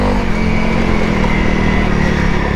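A Honda CRF 300 motorcycle engine drones loudly and steadily while riding over rough terrain, with a constant mid-pitched roar and wind rush throughout and no break in the sound.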